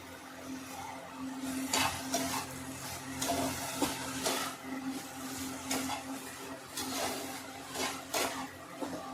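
A vegetable roll filling being stirred in a pan after black pepper and soy sauce are added, with soft repeated scraping strokes over a faint low hum.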